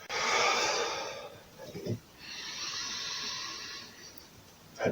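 Deep, audible breaths drawn in and pushed out during a guided back-stretching exercise, two long noisy exhalation-like swells separated by a brief pause, close and fairly loud with no talking.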